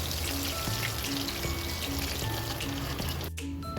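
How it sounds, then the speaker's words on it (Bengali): Catla fish pieces frying in oil make a loud, dense, close sizzle with bubbling crackle that holds steady throughout, then a short clatter near the end. "ওপিট করে ভেজে নেব।"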